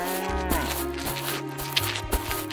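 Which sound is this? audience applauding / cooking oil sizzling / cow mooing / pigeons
cow mooing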